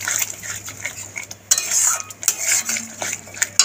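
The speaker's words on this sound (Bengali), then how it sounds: "দিয়ে একটু নাড়িয়ে দেবো।" A spoon stirs potato dum gravy, simmering with a little added sugar, in a cooking pan. It makes close, irregular scraping and clinking strokes against the metal over a faint bubbling background, with no talking.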